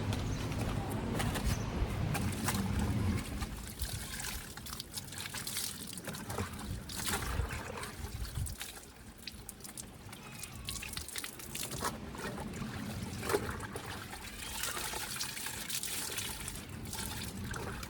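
Water splashes and sloshes as laundry is washed by hand during a week-long stay in Aurora. Wet scrubbing and slapping run steadily and close throughout, with a heavier, fuller stretch in the first few seconds.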